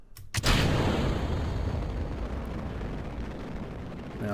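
Solid rocket boosters ignite with a sudden booming blast in Kerbal Space Program, then settle into a loud, continuous roaring rumble of thrust that slowly fades.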